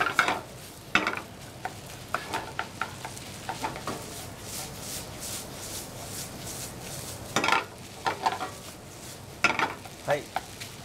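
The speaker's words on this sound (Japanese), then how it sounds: "この時は火は強火にします。そうするとご飯がベチョベチョにならなくて綺麗に混ざり合います。 で炒めていきます。" Ketchup rice stir-fried over high heat in a 22 cm frying pan, with a steady close sizzle broken by repeated scraping and clanking of the utensil against the pan.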